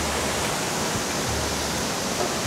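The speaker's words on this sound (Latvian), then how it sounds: "Kā trešais noslēdzošais ūdenskritums ir ieskauts klintīs" The third and final waterfall, enclosed by cliffs, gives a steady, dense rushing roar that fills the whole stretch without pause, close and even in level, with no voices.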